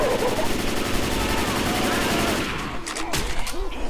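Sustained rattling automatic gunfire from Left 4 Dead 2 fills most of the stretch, loud and continuous, then breaks into scattered shots and game noise, with voices talking over it.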